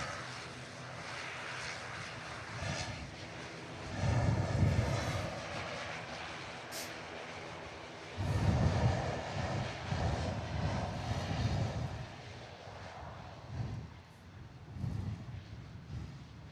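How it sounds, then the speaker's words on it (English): An Icelandair Boeing 737 Max lands at Manchester Airport, heard from a distance. Its engines make a low, rumbling roar that swells and fades in waves, with faint surging bursts as it rolls down the runway. Nobody talks. "No stress whatsoever this time on the touchdown for the Icelandair Max."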